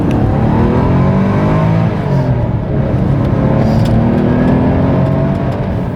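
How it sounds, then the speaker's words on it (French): A Porsche 911 Type 993 flat-six engine revs hard and loud, rising in pitch as it accelerates, continuous and close for the whole stretch. "le moteur nous fait part de son couple et de sa personnalité, ça pousse très très fort"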